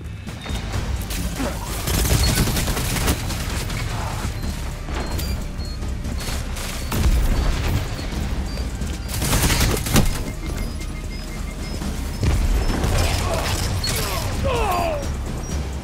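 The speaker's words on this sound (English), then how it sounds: "Detonated the charge." An explosive charge detonating in a Destiny 2 PvP match, heavy booms and crashes mixed with continuous gunfire and clattering action across a loud, busy battle.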